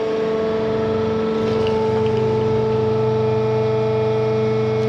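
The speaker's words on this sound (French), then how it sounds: "Je vais poser mon pied, augmenter le couple de résistance du moteur jusqu'à l'arrêt complet du moteur." A hydraulic motor runs steadily with a strong tonal whine and hum while a foot presses on it to raise the resisting torque until it stalls; the drone stays loud and continuous throughout.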